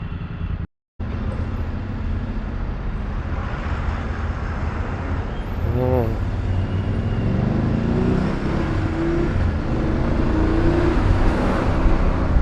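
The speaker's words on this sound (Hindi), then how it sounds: "भाई भयंकर ट्रैफिक जाम हो रखा है यहाँ।" Heavy road traffic jam on the route from Varanasi to Kolkata, a loud continuous roar of idling and creeping engines close by, with a brief horn and rising engine tones as vehicles inch forward.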